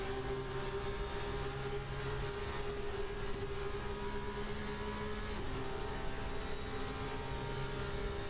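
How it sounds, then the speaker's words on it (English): Race cars in an esports racing game rev and accelerate with a steady, continuous engine drone and sustained whine, staying loud and even throughout without any talk. "You see the cars in front just pulling away as they use push to pass."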